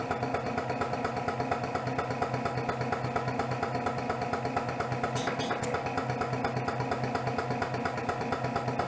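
A Lanaform skin-firming massage device runs its suction, a steady, rapidly pulsing mechanical hum and buzz that holds evenly throughout at close range.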